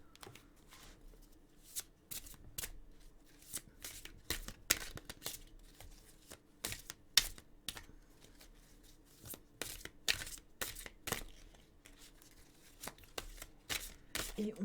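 Oracle cards are shuffled for a reading, a continuous close run of soft riffling flicks and slaps, quiet and uneven in rhythm.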